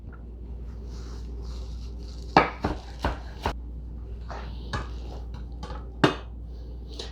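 Knife chopping through a bunch of fresh cilantro on a cutting board, a few sharp, separate chops near the mic with quiet gaps, over a low steady hum.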